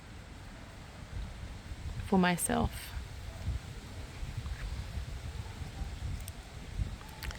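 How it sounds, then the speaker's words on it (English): Wind buffets and rumbles across the microphone in low gusts on a hot, windy day in Australia, with a brief spoken phrase partway through. "It's a really windy day here."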